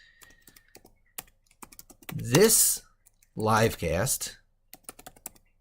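Computer keyboard typing while a Vim macro is written to format poetry, soft scattered key clicks running under and between bursts of speech.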